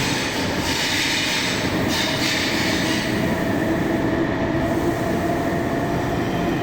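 Constant loud rumble of a Zurich Airport rail train in motion in Switzerland, close and enclosed, with a steady roar and faint high squeal over the whole stretch.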